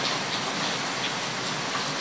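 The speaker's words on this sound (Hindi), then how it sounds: "इतना पानी आ रहा है देखो" Steady, dense hiss of heavy rain pouring down in Gujarat, even and continuous throughout with no voices over it.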